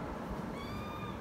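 A two-month-old kitten gives a single thin, high meow, heard close and faint over steady background noise.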